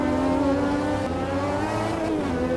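A Lotus 98 turbo Formula 1 engine in Automobilista 2 revs hard and climbs in pitch, a loud steady racing drone with harmonic whine that dips and rises again near the end.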